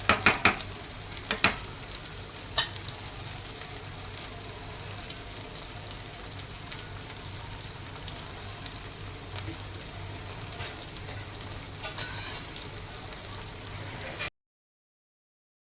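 Creamy malai chicken tikka pieces frying in a pan after being flipped, a continuous close sizzle and crackle with a few sharp spits and clinks at the start, then cutting to silence near the end.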